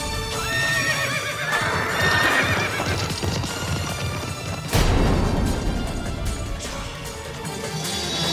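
Cartoon horse whinnying over clip-clopping hooves, loud and close, with a sharp burst midway and dramatic backing sound throughout in a children's story about fleeing a demon.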